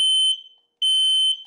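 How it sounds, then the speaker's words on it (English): Two loud, piercing electronic smoke alarm beeps, each about a third of a second, separated by a short gap. "alarms that alternate between beeps and a pre-recorded voice."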